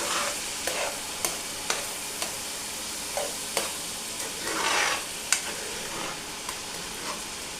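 A pot of coconut boils and sizzles while making Jamaican-style coconut oil, a steady bubbling hiss broken by regular sharp stirring scrapes and clacks, close up with no talking.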